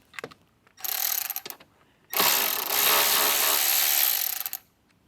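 A power tool drives an 8mm bolt out of a metal bar on a 2024 Jeep Wrangler, two bursts of loud ratcheting buzz, a short one and then a longer sustained run, close by with faint clicks around them.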